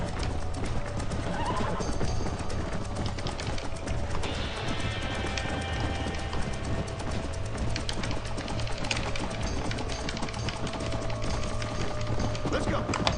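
Horse hooves clip-clopping at a steady gallop in Red Dead Redemption, a continuous rhythmic thudding that runs unbroken throughout, close and fairly loud over a constant game ambience.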